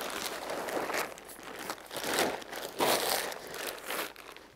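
Fabric of a Gelert Horizon 360p tent is folded in half, giving several bursts of close crinkling and rustling nylon with short pauses between handling movements.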